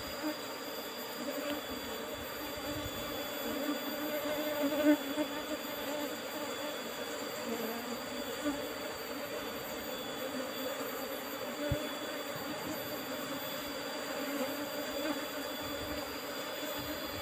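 A colony of Apis cerana honeybees buzzes steadily around a hive during transfer to a cultivation box, a dense continuous drone that stays at an even level throughout with no speech.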